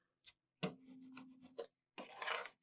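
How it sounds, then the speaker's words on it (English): A tool scrapes and rubs over Cricut vinyl on a custom sign, burnishing it in short, close, quiet strokes with brief pauses between them. "So now that we've burnished that"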